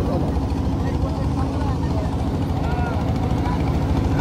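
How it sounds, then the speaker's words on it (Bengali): Engine of a large river trawler boat on a rainy-day picnic trip, a continuous loud low throbbing drone with steady mechanical rumble, heard close and unbroken throughout. "ট্রলারটা বড় আছে।"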